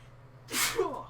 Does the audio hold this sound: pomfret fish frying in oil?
no